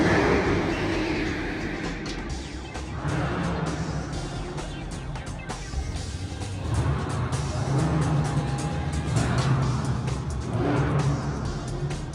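Car engines rumble and rev as vehicles pass, with a low steady drone swelling and fading, moderately loud and without speech, in a TikTok scare-away role-play scene.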